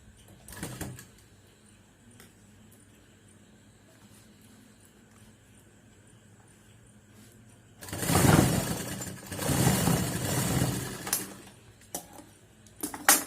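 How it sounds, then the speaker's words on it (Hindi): A sewing machine stitches along the edge of a fabric face mask in a quiet room, a loud burst of rapid mechanical whirring in two runs after a long near-silent pause, with a brief clatter at the start. "अब हम इसको इस तरह से बराबर करते हुए किनारे एक सिलाई लगाएंगे।"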